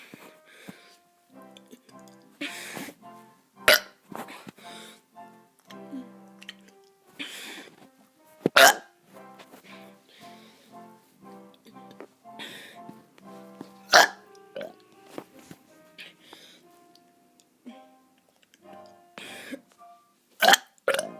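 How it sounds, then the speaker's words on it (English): A kid lets out a series of short, crackly burps, roughly a dozen spaced irregularly over about twenty seconds, close and loud against near silence. "I'm going to be doing some burps."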